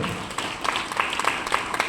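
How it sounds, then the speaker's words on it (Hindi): Students clapping at a school Republic Day function, a moderate patter of hands with scattered sharper claps, steady and fairly close for a brief stretch. "सभी बच्चों का धन्यवाद, तालियों से स्वागत करते जाए जोर जोर से"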